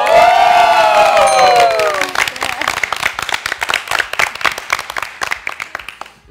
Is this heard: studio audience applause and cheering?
yes